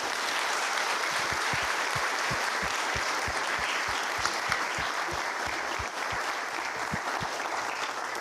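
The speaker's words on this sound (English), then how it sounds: "Big round of applause again for you." Applause for officers at a police promotional ceremony, with sustained clapping from a crowd and a few sharper individual claps standing out in an even rhythm.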